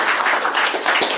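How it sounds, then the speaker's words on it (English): Short burst of group applause at a model railroad division meeting, a small room of people clapping briefly and fairly close. "That's worth a round of applause"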